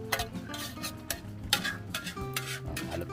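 A spoon scrapes and clinks against a pot while dried taro leaves (laing) are stirred as they cook, giving a quick irregular run of close taps and scrapes with no voices.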